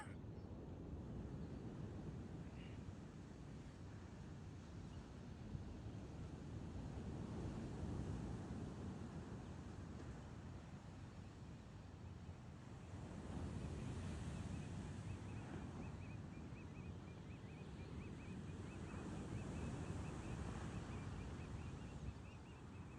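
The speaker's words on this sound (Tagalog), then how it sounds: "nakita nyo naman napakalaki ng alon" Large ocean waves break on a beach under strong wind, a constant rumbling wash with swelling surges and gusty buffeting, fairly faint overall, heard on a morning summer camping trip.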